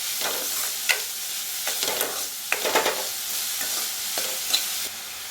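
Onions with salt sauté in a pan for white pumpkin kootu. A utensil stirs them in repeated scraping strokes over a steady, close, crackling sizzle.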